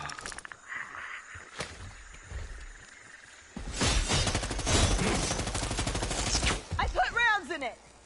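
Bursts of rapid video game gunfire on a PS4 shooter, loud and dense over several seconds, mixed with shouting voices and in-game chatter before and after.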